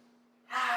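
A person takes one deep, audible breath in during a stretching exercise, a sharp breathy rush rising suddenly after a quiet moment, close to the microphone over a steady low hum.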